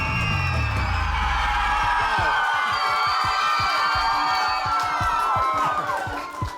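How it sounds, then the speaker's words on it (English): A children's audience at an elementary school quiz cheers loudly for a winner, a dense sustained roar of shrieks and whoops that stays close and full throughout before easing slightly at the end. "That has got to be the biggest cheer I've ever heard."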